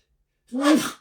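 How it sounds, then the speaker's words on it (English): A single sharp human sneeze bursts out after a short silence, close and fairly loud, with a brief airy tail. "I'm going to sneeze here in a moment."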